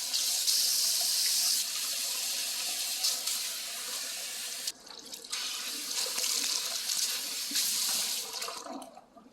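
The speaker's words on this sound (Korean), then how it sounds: "이제 모발을 헹궈줄게요. 연화하고 헹굴 때처럼 너무 뜨거운 물이 아닌 약간 시원한 물에 헹궈주시는 게 좋아요." Cool tap water runs steadily while rinsing hair after a heat perm on damaged hair, a loud continuous splashing stream with two brief dips where the flow is interrupted, no voices.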